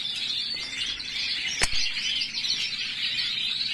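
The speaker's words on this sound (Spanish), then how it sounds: "hay algunos pájaros" A crowd of songbirds chirps in a dense, continuous twittering chorus, with a single sharp snap or wing flap standing out midway and no voices.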